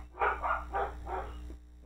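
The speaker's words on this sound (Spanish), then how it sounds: "¿Qué es ese perro?" Dog barking in Halo 5: Guardians, a run of four or five close, loud barks in quick succession with a faint steady hum beneath, no talk over it.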